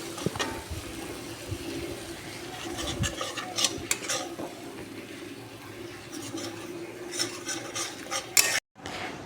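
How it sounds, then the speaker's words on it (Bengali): Masala being stirred in a pan for prawn malai curry after spice water is added, with steady scraping and clinking of a utensil against the metal, close and continuous, without talk. "দিয়ে ভালো মতো করে একটু নেড়ে নিলাম"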